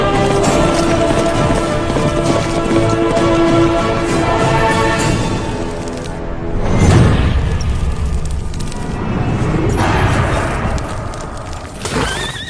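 Horse hooves clip-clop steadily through a dramatic film scene, the hoofbeats mixed with deep booming rumbles and a dense, loud soundtrack.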